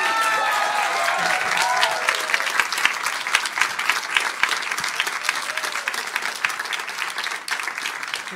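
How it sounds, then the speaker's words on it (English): An audience at a demo day event applauds its director, a dense, sustained wave of clapping from many hands that stays loud throughout and tapers slightly toward the end. "now let's get a round of applause for our director, Salome Asega."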